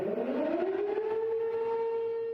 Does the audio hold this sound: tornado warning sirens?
yes